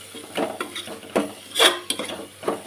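Chili powder is stirred in hot oil in a pan, with irregular scraping and clinking strokes of a spoon against the metal over a faint sizzle, the louder scrapes coming in uneven bursts.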